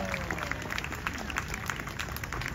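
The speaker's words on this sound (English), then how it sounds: "Big round of applause for one of our featured 2024 artists" An outdoor audience at the Cupertino Cherry Blossom festival applauds a Satsuma Dojo demonstration, a steady wash of clapping with scattered distinct claps, moderate and somewhat distant, no talking.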